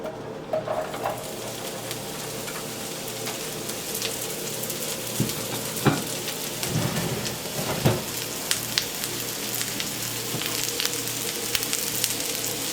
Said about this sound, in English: we are going to want to put our mushrooms in to get them started on sauteing